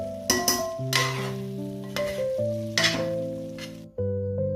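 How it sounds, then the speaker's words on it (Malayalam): Chicken biryani being stirred and mixed in a pot, with a few short scraping, sizzling bursts spaced through steady background music; no speech. "വീണ്ടും നന്നായിട്ടൊന്ന് ഇളക്കി യോജിപ്പിക്കാം"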